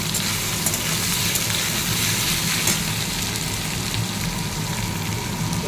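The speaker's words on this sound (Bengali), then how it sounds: "এবার থোড়া আলুটা এবার একটু ভাজি।" Banana stem and potatoes frying in a pan, giving a steady, dense sizzle that holds level throughout with no voices.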